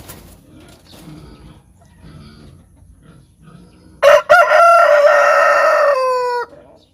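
A gamefowl rooster of vintage Rhode Island and Jack Rose lines crows once loudly and close by, a single long harmonic call that follows a stretch of quiet farmyard background.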